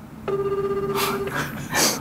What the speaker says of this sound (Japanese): 一回電話してみましょうか